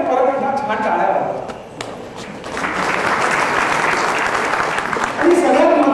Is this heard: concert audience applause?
yes